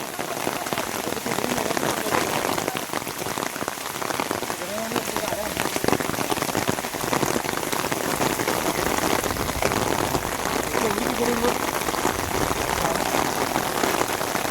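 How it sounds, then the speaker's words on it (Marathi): Heavy monsoon rain pours steadily near Rangana fort, a dense continuous hiss and patter on surfaces at moderate loudness, with faint voices murmuring underneath. "मुसळधार पाऊस आलेला आहे."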